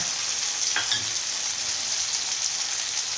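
Onions sizzle as they fry in a pan for rice rava upma, a steady bright hiss with a single quick stir or scrape near the start, close and constant with no talk.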